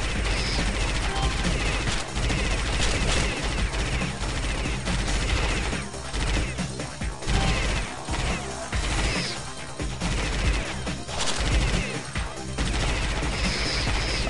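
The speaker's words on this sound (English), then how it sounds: "You're here to see me shooting aliens with a lot of guns" Dense rapid gunfire from guns shooting aliens in the game Alien Shooter rattles almost without pause, with crashes and impacts layered through a loud, busy mix.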